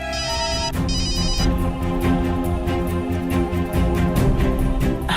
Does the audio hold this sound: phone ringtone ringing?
yes